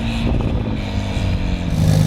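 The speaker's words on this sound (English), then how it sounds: "you might actually hear a little more turbo noise and definitely more intake noise from the Renline intake" A Porsche 997 engine with a Renline intake runs under steady load, giving a continuous low rumble with audible intake and turbo noise throughout, fairly loud and close.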